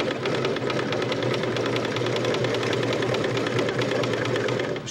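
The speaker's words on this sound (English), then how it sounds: "Sew up to about that point" A National book binding sewing machine stitching, giving a steady, loud, continuous mechanical whir with fast regular clatter throughout, no voices.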